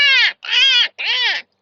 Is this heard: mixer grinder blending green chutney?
no